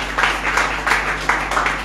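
Children at a Christmas service clapping together in several bursts of applause, loud and fairly close, with a steady low hum underneath.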